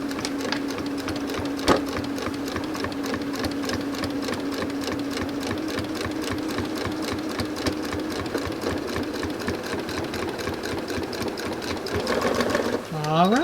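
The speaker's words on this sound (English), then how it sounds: "Just stitch nice and straight down here." A sewing machine stitches a quilt block in a steady, continuous run at close range, its rapid needle rhythm holding throughout, with a voice speaking faintly beneath the mechanical whir.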